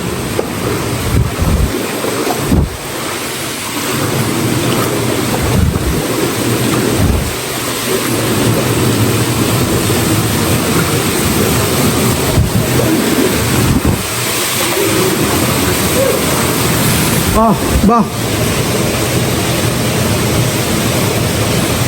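Continuous roaring rush of water at a sulfur waterfall in Wadi Huqain, Rustaq, Oman, loud and broadband, with occasional low rumbles and thumps, no voices.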